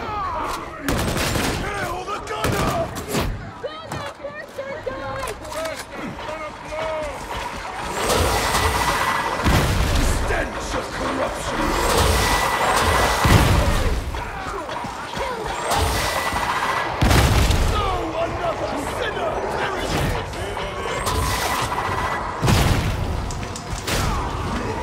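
Bursts of gunfire from a gun in the grimdark sci-fi shooter Warhammer 40,000: Darktide during an Auric Maelstrom mission, dense and loud, with repeated rapid shots and crashes over a busy game soundscape and occasional talk.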